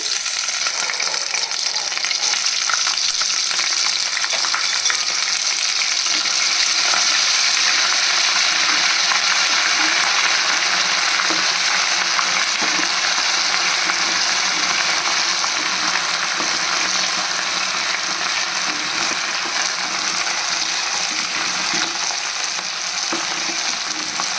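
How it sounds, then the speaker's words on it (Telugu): Ginger garlic paste fries in oil with a loud, dense, unbroken sizzling hiss that holds steady throughout, close up and without talk. "ఇదే ఆయిల్లో అల్లం వెల్లుల్లి పేస్ట్ కూడా వేగించుకోవాలండి."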